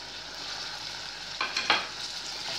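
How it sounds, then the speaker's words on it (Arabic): Diced peppers frying in a pan, stirred a few times, with a steady close sizzle and soft scraping bursts of the spoon partway through; no talking. "وهنقلب برده كده اهوت مع بعض لحد برده الفلفل بتاعنا ما يبدا يدبل"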